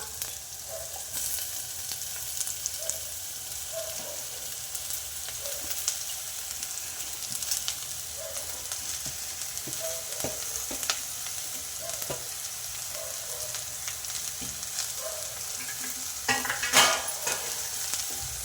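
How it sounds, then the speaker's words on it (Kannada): Bitter gourd and onions fry in oil in a pan, giving a steady close sizzle with soft, regular stirring taps and a brief louder scrape near the end. No one speaks. "ಎಣ್ಣೆಯಲ್ಲಿ ಚೆನ್ನಾಗಿ ಬೆಂದಿದೆ ಆನಿಯನ್ನು. ಇವಾಗ ನಾವು ಹಾಗಲಕಾಯಿ ಹಾಕೋಣ."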